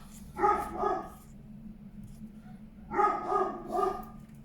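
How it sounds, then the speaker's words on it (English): Neighbourhood dogs barking in two short bursts of several barks each, moderately distant outdoors, separated by a quiet gap. "all the neighbourhood dogs are barking now"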